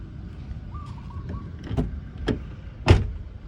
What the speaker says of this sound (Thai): เดี๋ยวผมจะลองเปิดปิดประตูให้รับชมกันนะครับ